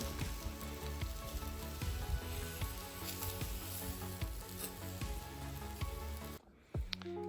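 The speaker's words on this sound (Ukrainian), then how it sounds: "як шкварчить" Continuous crackling sizzle of mushrooms frying on a grill grate, a steady close hiss with pops, briefly cutting out near the end.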